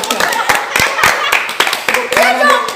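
Hand clapping on a village talk show, a handful of people clapping in loose, uneven bursts close by, mixed with chatter and voices talking throughout.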